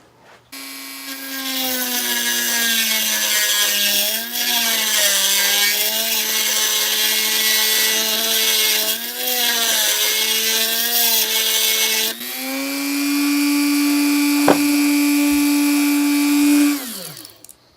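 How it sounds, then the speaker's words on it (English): A Dremel rotary tool spinning a sharpening stone against a dressing stone to reshape it, giving a loud, steady high-pitched whine with a gritty grinding edge that wavers with pressure, then shifts pitch and winds down at the end. "I'm going to see how tough it is to grind this back down to a barrel shaped with the dressing stone."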